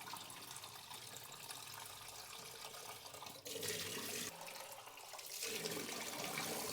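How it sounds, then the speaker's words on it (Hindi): Cold tap water runs steadily while rinsing a 35mm film developing tank at home, a continuous hiss that swells louder partway through as the flow changes. "अब इसको मैं वॉश करूँगा ठंडे पानी से"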